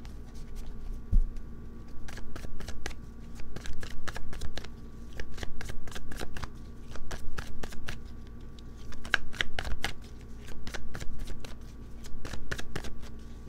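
Tarot cards riffled and shuffled in repeated short bursts, a steady crisp fluttering pattern at close range with brief pauses between passes.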